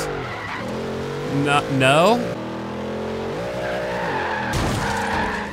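Supercharged 2012 Cadillac Escalade ESV sliding sideways in Forza Horizon 3, with engine drone and a rising, wavering tire squeal that swells loudly mid-clip, then a sustained engine hum resumes under the game sound.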